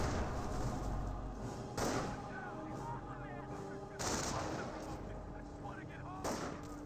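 Explosions and an artillery barrage in the Company of Heroes video game, with repeated heavy booms and rattling gunfire at intervals, mixed with clanking battle effects under a steady din and game voices.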